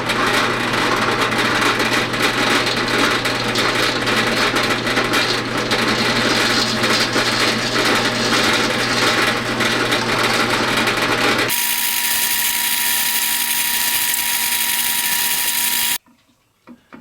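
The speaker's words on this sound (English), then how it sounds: "now it's time to drill some holes in these PVC caps" A power drill whines loudly and steadily, its pitch shifting as it bites into PVC pipe caps, then cuts off near the end.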